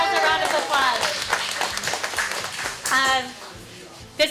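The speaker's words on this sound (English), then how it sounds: "Give yourselves a round of applause." A group of volunteers applauds at a community gathering before Thanksgiving, with close, dense clapping and a few cheers. Voices are heard mixed in under the applause.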